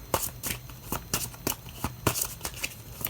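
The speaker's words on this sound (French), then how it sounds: "on va tirer une carte" Rapid riffling bursts of oracle cards being shuffled by hand, about ten crisp rustling flicks in a steady rhythm, close and fairly quiet, without speech over them.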